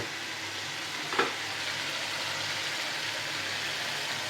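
Cashew and poppy seed paste frying in a pan with tomato paste for a potato curry, a soft, even sizzle running steadily with a single brief clink near the start.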